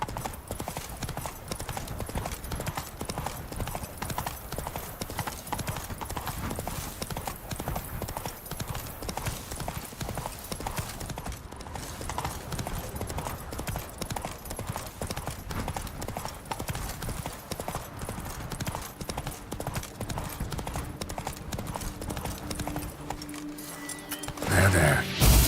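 Hooves of Roach, the horse in The Witcher 3: Wild Hunt, pound in a fast, continuous galloping clip-clop with faint jangling tack, loud and close for the whole stretch, ending in a sudden louder flurry.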